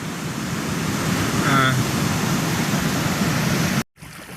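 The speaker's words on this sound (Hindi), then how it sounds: "तो यहाँ पे दरिया का शोर बहुत ज़्यादा है।" A mountain river rushes beneath a fragile footbridge in a Pakistani mountain village, a loud, continuous broadband roar of churning water close by that cuts off abruptly near the end.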